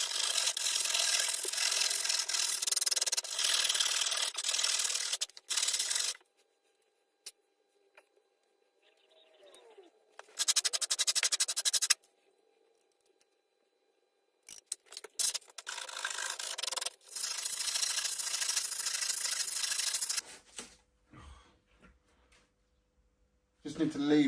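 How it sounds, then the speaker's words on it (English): A hand rasp scrapes and shapes the body of a Porsche 911 RWB replica in loud, harsh bursts of rubbing strokes, separated by short quiet pauses. "So I've got the rasp and my cutter thing,"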